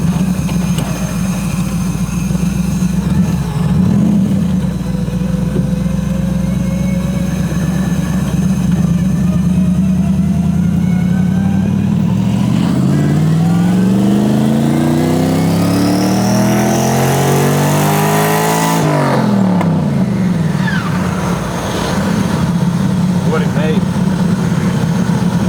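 A twin-charged Ford Crown Victoria idles with a deep steady rumble, then revs hard in second gear, its engine pitch climbing steeply before dropping back, while people talk inside the car.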